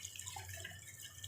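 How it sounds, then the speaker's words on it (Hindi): A little water dripping and trickling onto a dish while testing homemade liquid dishwashing soap, steady faint splashing over a low hum with no talking. "लो जी, थोड़ा सा पानी लगाएंगे"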